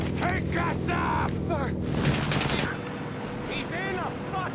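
Bursts of rapid gunfire in the crime video game Mafia, loud and close, with frantic voices shouting over and between the shots.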